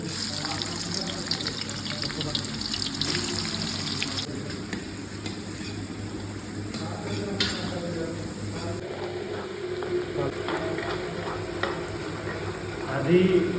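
Onions frying in mustard oil in a pan for home-style chicken biryani, a steady close sizzle running throughout with stirring and scraping, under faint background music with a voice talking lightly.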